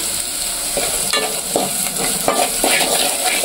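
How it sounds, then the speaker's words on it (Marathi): Garlic sizzles in hot oil for a tempering, a continuous loud frying hiss broken by repeated scraping stirs of a spoon, with no talk. "लसूण टाकून घेतलंय. लसणाची फोडणी एकदम जबरदस्त."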